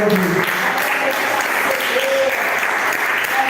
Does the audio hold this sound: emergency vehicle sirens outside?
no